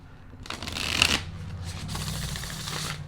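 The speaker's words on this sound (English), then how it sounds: "Shuffle once, cut twice." Tarot cards are shuffled close up, a quick riffle building to a crisp flurry, then a softer continued shuffling rustle with no talking.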